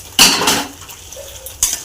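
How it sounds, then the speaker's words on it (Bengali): Lightly fried potatoes tumble into a pan of gravy with a sharp clatter of pieces against metal, then a second, shorter knock and rattle follows near the end. "এবার এর মধ্যে আমি আলুগুলো দিয়ে দেবো।"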